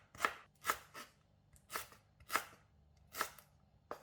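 Knife slicing fibrous lemongrass stalks thinly on a board, seven sharp, crisp cuts at a steady, slightly uneven rhythm, close and clear with nothing else heard.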